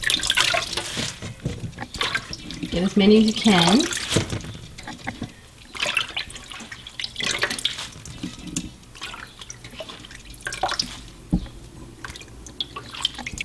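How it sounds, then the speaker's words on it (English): Wet splashing and dripping as freshly harvested garden lettuce leaves are lifted out of water and dropped into a bowl, with rustling handling sounds and brief talk. "I just take the leaves out of the water, throw them in the bowl."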